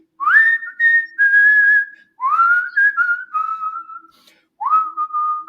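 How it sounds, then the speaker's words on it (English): A person whistles a tune close to the mic, loud and clear, with sustained, gently sliding notes in three phrases separated by brief breaths. "I'll start off whistling"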